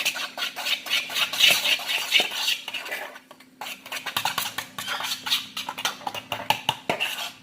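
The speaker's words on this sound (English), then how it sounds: "Then add a little bit of our flour mixture and stir it." Spoon scraping and clinking against a bowl while buttermilk and flour are stirred into cupcake batter, a steady run of light, irregular taps and scrapes close up, with a brief pause midway.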